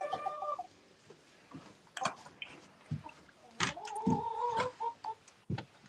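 Backyard hens in their second year clucking in short bursts, with sharper squawks and a few louder calls, fairly close, no talking.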